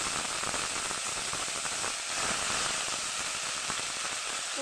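Ground spice paste and two bay leaves hitting hot oil in a pan: a steady, dense sizzle and crackle that holds evenly throughout, loud and close, with no voices.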